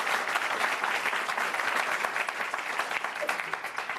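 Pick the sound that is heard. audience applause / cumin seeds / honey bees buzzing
audience applause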